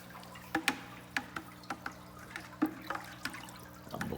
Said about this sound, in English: I'll stir it with this piece of hose